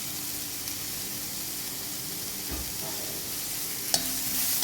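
Onions fry in a pan as salt goes in, giving a steady, fairly quiet hiss of sizzling with a few soft clinks and stirring scrapes, no voices.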